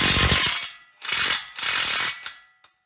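An impact wrench with a 24 mm socket hammers at the lower ball joint nut on a 2007-2013 Tahoe or Silverado front suspension, three loud, close rattling bursts with short pauses between them.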